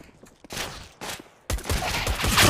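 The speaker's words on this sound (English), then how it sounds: "He's shooting in my head." Rapid bursts of gunfire crackle from an online multiplayer shooter match: a short volley, a pause, then sustained, denser firing that grows louder toward the end, with no voices.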